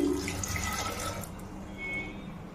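A cup of water poured into 200 grams of rice for pulao, a close, splashy gush that fades into a softer trickle and settles down over a couple of seconds.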